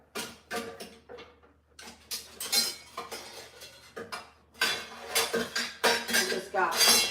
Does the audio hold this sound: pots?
yes